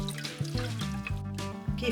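Water kefir grains being added to a mixture of sugar and water: a short, close burst of liquid pouring and splashing with gurgling and dripping, heard alone.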